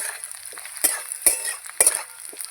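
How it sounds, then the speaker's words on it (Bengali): Potatoes frying in a pan after the lid comes off, soft sizzle with three or four distinct scraping stirs and utensil knocks against the pan, close and fairly clear, no voice. "আবার ভেজে নেবো আলুটা আর একটু"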